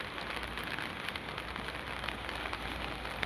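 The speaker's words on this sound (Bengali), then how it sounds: "এই অচণ্ড বৃষ্টি পড়ছে" Heavy rain pours down in a dense, constant patter, an even wash of sound with no voices or pauses.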